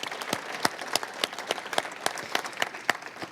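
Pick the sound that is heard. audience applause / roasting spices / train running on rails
audience applause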